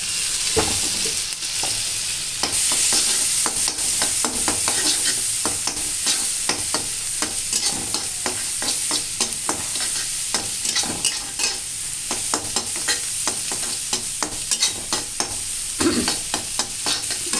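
A soy sauce and vinegar mixture sizzles steadily in a frying pan as it is stirred continuously, with rapid scraping and tapping strokes heard up close and no voices.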